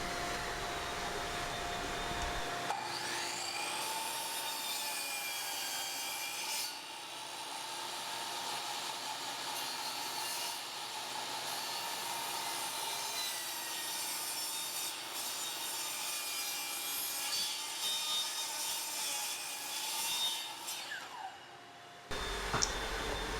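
A power saw cuts short pieces of hardwood stair nosing at 45 degrees, a close, loud, steady whining rasp that holds for about twenty seconds before the motor cuts off and winds down.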